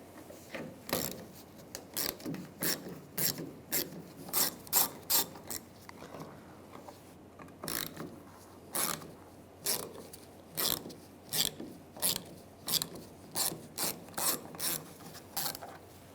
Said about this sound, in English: I'm going to take these 3 bolts out. Use a 7mm socket.